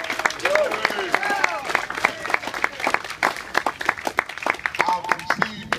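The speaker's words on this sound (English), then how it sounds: "Give her a round of applause." Scattered applause from a park gathering audience honoring a local woman, with distinct individual claps standing out over crowd murmur and voices talking through it.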